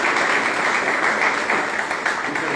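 Audience applause for a lecturer at a law conference, a steady, dense wash of clapping from a full room that holds at an even level throughout.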